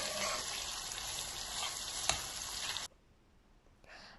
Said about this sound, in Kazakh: араластырып қуырып аламыз.